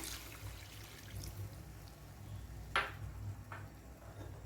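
Water poured into a pan of Tamil fenugreek curry (vendhaya kuzhambu) with tamarind, a soft, steady trickle with a brief splash near the end, faint and close, with no talk.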